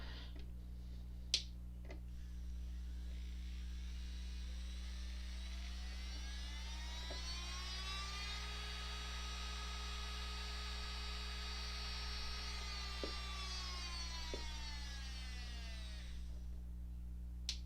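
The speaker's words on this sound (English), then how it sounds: "So we're just going to listen to the drill now and see if there's lots of vibration or if it's quieter" A Melodysusie electric nail drill handpiece, part of a 2-in-1 nail lamp set, runs on its own with a thin high whine that ramps up, holds steady, then winds down, over a low constant mains hum.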